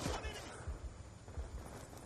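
Gunfire in Black Ops 2, a few sharp low-end bursts scattered through the moment, fairly faint and mixed with a player's voice talking.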